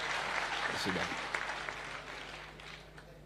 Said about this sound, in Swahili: Pigeni ya makofi